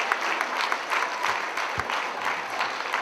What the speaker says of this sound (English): if you could please give a round of applause